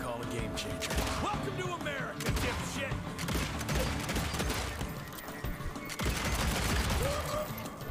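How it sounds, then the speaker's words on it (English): Revolver fanning in the video game Evil West, bursts of rapid game gunshots with mechanical clicks and crashes set in a busy, dense mix of game sound. "Hold right trigger for fanning and tap right trigger for a single shot."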